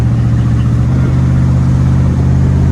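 Backdraft Cobra roadster engine under acceleration, a loud steady mid-pitched drone with a rising note from inside the open car, continuous for a few seconds with no talk.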